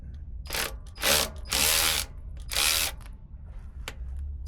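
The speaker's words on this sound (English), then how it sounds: "Let's make sure we're going the right way on the ratchet" Ratchet working loose the bolts under a Ford F150 pickup, heard close up as several bursts of rapid clicking, each lasting under a second, with short pauses between them and no talking.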